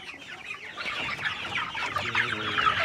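Young pullet chickens cluck steadily in a coop during a move to a free-range area, a dense, overlapping chorus of close, busy clucks and chatter with no pauses.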